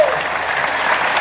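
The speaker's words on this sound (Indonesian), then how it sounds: "Tepuk tangan sekarang" A studio audience at an Indonesian TV talk show applauds in a steady, even burst of clapping that carries through the short stretch.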